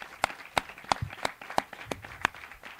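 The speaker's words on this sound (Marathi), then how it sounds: "त्यांच्यासाठी आपण जोरदार टाळ्या दिल्याच पाहिजेत" Crisp, evenly spaced hand claps at a gathering of the Swargandhar group, about three sharp slaps per second, close and clear with no talking.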